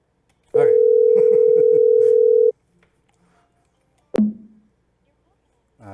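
A steady telephone dial tone on a Google Voice call holds for about two seconds, loud and close, followed by a sharp click and brief noises.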